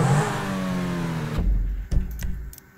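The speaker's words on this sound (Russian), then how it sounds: "нихуя она втапливает сразу с этим новым мотором" A car engine fitted with a new motor revs hard in Grand Theft Auto V, a loud rising whine that cuts off abruptly, followed by a few clunks and a low rumble.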